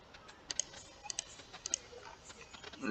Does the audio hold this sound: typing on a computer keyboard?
yes